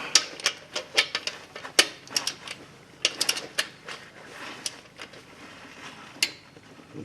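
A torque wrench tightens the oil pan bolts on a 2004 Mazda 6 3.0 liter engine, giving close, crisp ratcheting clicks in irregular bursts and single snaps, with brief pauses between them.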